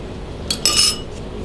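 A spoon clinks against a container while stirring homemade banana syrup, two or three quick bright metallic taps and a short scrape, close and alone against quiet background.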